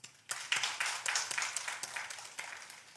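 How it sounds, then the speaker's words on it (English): A roomful of seminar attendees claps for a guest, the applause starting abruptly, swelling quickly and then slowly thinning out, moderately distant and steady, with no talking over it. "Let's honor his presence with a big round of applause."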